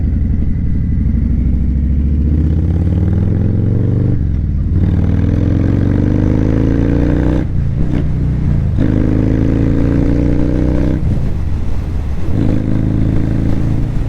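Harley-Davidson motorcycle fitted with a Cobra exhaust accelerating hard, loud close engine roar climbing in pitch through several gear pulls with brief dips between shifts, no talk.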